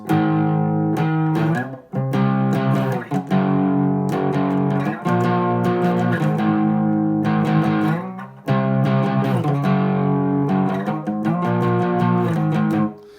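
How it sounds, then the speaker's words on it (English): Electric guitar strums sustained power chords with a light, slightly crunchy overdrive, playing a rhythmic pattern with brief pauses between phrases, loud and close. "I had a little overdrive on my guitar. It's just starting to break up."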